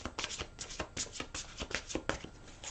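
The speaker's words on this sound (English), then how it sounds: "One more shuffle." A thick deck of tarot cards is shuffled by hand in a quick series of crisp riffling bursts, close and fairly quiet, repeating roughly every few tenths of a second with no talk.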